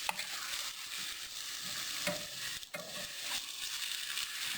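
Chop suey sizzling and frying in a pan while being stirred and spread out, a steady broadband hiss with scraping stir strokes, close and continuous with no talk.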